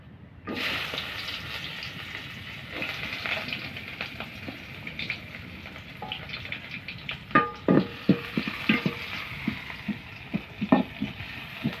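Fresh tilapia fish frying in hot oil, a bright continuous sizzle with bursts of crackling spatter and occasional clinks of a utensil, close up and without voices.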